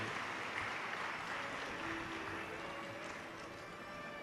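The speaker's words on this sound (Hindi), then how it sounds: "एक बार जोरदार ताली बजाएं" A large audience claps loudly and steadily throughout a Shiv Mahapuran katha religious discourse, a dense, continuous wash of applause with no talking over it.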